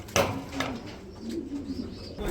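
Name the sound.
pigeons cooing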